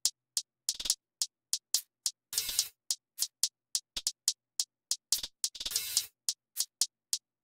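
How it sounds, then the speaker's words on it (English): Layered hi-hats from a drill beat tick in a fast, uneven pattern of crisp short hits, with two longer rolled bursts, playing alone and close. "Together, the hi-hats sound like this."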